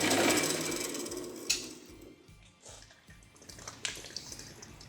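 A band saw slowly parts a piece of metal stock in a hobby machining shop, giving a steady, fairly quiet grinding hiss with a faint rhythmic pulsing and occasional small clicks throughout.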